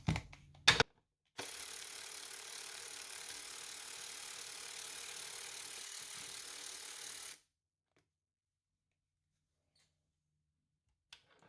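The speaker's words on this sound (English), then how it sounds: "Two 13mm bolts hold on this carrier, so we'll take those loose now" A few sharp clicks, then a steady, even buzzing whir for about six seconds as 13mm bolts on a BMW X3M driveshaft carrier are run loose with a power ratchet, close, followed by silence.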